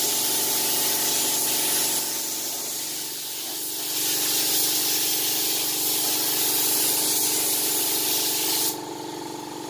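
A modified, repaired spray gun sprays continuously with a strong steady hiss and an underlying mechanical hum, the spray cutting off sharply near the end while the hum continues.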